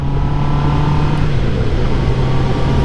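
A QJ Motor SRK 800 four-cylinder motorcycle engine revs up through the gears, giving a loud, close, smooth tonal whine whose pitch drops and steadies partway through.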